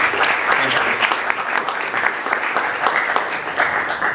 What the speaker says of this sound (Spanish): un aplauso capaz para recibir a Aldo